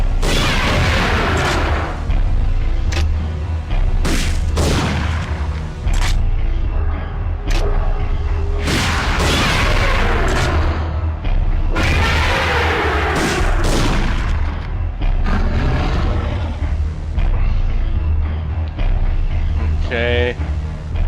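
Repeated grenade explosions in Parasite Eve 2 on PS1 go off as loud, booming blasts at irregular intervals with rumbling tails, laid over game music and a talking voice.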